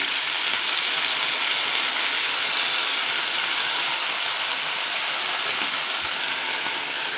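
Sprouted moth beans (matki) hit hot oil in a kadai, giving a loud, steady sizzling hiss that holds evenly without pause.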